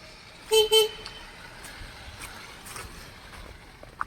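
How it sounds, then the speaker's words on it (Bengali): Cars creep along a snow-covered, slippery road in snowfall. Two short, loud horn toots ring out near the start over a faint, steady traffic hum, with scattered soft thumps and a small click near the end. "খুব সাবধানে চলছে গাড়িগুলো দেখুন কত আস্তে আস্তে আসছে"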